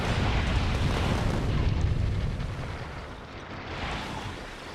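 Rockets fired by spidertrons in Factorio burst in a heavy, rumbling barrage, a continuous low roar of overlapping explosions that eases slightly midway and then swells again.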